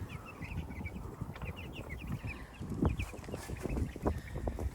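Cornish Cross hens cluck and murmur softly in a small group, with scattered higher calls and light rustling and scratching close by.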